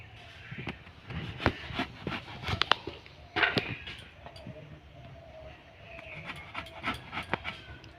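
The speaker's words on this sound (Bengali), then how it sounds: "এখন আমি এই বেগুনটা কেটে নেব।" A knife cuts through a thick brinjal in a home kitchen, producing a series of sharp, irregular chopping thuds and crunches, close and fairly loud against a quiet background.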